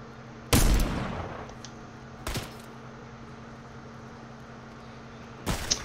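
Revolver gunfire in the shooter Call of Duty Gun Fright mode: three separate shots, the first loud and booming with a trailing echo, a softer one mid-clip and another near the end, over a low game ambience.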